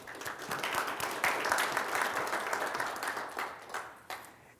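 An audience applauds the organizers at the opening of a Wednesday welcome session, a steady wash of many hands clapping that swells and holds for several seconds, then tapers with a few last claps.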